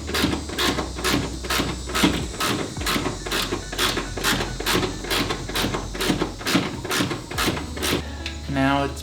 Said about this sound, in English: we're going to go ahead and tighten down the third bolt down here with a 10mm socket